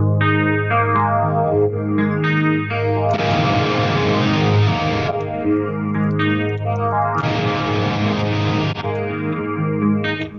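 Electric guitar played through a Fractal Audio unit with chorus and phaser effects, switching between a dirty distorted tone and a clean one: sustained chords ring out with shimmering modulation, loud and close, with no gap at the switch.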